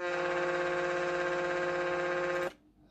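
A long, loud, steady ship's whistle sound effect holding one rich tone for over two seconds before stopping sharply, played through an RC vehicle sound system.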